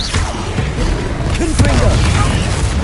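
A fire spell cast during a Hogwarts Legacy battle: a dense, roaring burst of magical flame with low booming thumps amid ongoing combat noise, continuous and loud for a few seconds, with voices heard in the fight.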